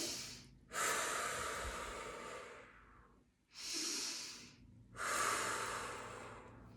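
Slow, steady breaths drawn in and out through the nose during a forearm release stretch, three long airy inhales and exhales in a row, close and fairly loud with short quiet gaps between them.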